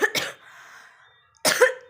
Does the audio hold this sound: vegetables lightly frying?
no